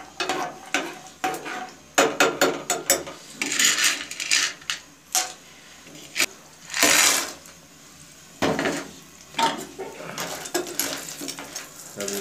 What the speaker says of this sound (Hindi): अब इसको चम्मच की मदद से आहिस्ता आहिस्ता, जिस तरह मसाले की भुनाई करते हैं इसी तरह हलीला से आपको आपने ब्राउन करना है